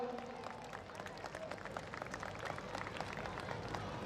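Audience clapping at a school foundation day and annual day celebration, a steady dense patter of many hands that holds for about four seconds, moderately distant with crowd murmur underneath.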